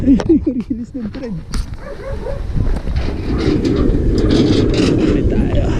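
A Philippine National Railways passenger train pulls away at Calamba, its rolling rumble building over the last half while people talk nearby and wind buffets the microphone.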